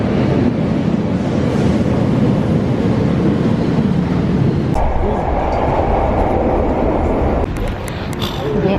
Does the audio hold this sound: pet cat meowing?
no